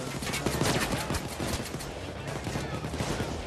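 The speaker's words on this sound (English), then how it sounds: "This one I'm getting shot at." Dense gunfire in the Payday 2 heist game, a continuous rattle of overlapping shots and bursts filling the scene at steady high loudness, with no clear gaps between volleys.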